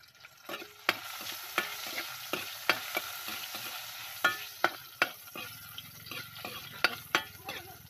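Garlic for pork adobo sizzles in a pan over an outdoor fire, with repeated scraping and clinking as a spatula stirs it, the sharp taps landing irregularly over a steady frying hiss.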